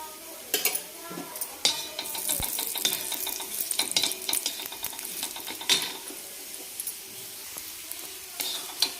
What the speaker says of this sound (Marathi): खोबरं पण छान कलर येण्यासाठी चांगला लालसर भाजून घ्यायचं आहे आपल्याला.